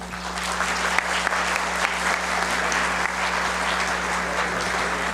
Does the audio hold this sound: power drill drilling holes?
no